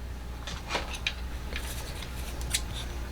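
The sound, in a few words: scissors snipping lemon deco mesh for a wreath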